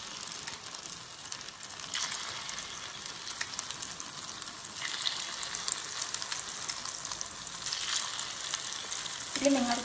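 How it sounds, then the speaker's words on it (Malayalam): Egg and vegetable mix poured into a hot pan in a home kitchen, a steady close hissing sizzle with occasional stirring scrapes throughout. "ചട്ടി ചൂടായി വരുമ്പോഴത്തേക്ക് നമുക്ക് എഗ് മിക്സ് ഒഴിച്ചു കൊടുക്കാം."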